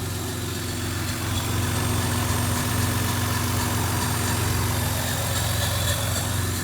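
Toyota Camry engine with a stock intake idling, a steady low hum with a constant drone, close and even throughout with no talk.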